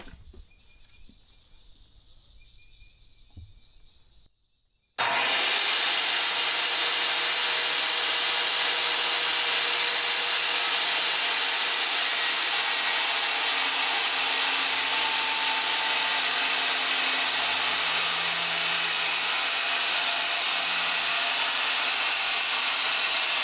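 A saw cuts through raw cedar for a bed frame, starting abruptly after a few quiet seconds and then running loud and steady as a continuous rasping whir close by.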